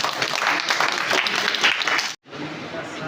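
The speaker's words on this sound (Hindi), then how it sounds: "जोरदार ताली" An audience breaks into loud, sustained applause, dense clapping filling the room for about two seconds, cutting off abruptly and then picking up again more softly.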